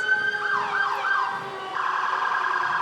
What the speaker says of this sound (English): I bet they get pretty excited hearing the sirens, seeing the flashing lights.